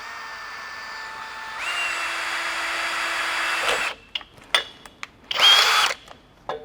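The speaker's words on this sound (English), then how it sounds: "Take the 1/8 inch drill bit that we had, and you're going to create a quick pilot hole" An electric drill with a 1/8-inch bit whirs steadily drilling a pilot hole into a ladder, its pitch rising as it bites in, then stops and starts in short bursts before a final high-pitched run.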